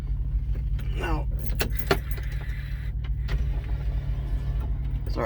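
A truck cab's electric window winds down with a faint motor whir over a constant low engine rumble, while keys jangle nearby.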